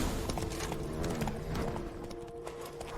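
Roach, Geralt's horse in The Witcher 3, gallops with steady rapid hoof clip-clops and an occasional whinny, close and continuous, with game music and ambience underneath.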